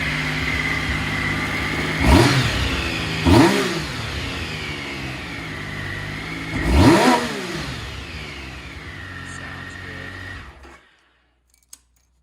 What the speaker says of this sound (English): Give her a couple of revs here and then we'll shut it down.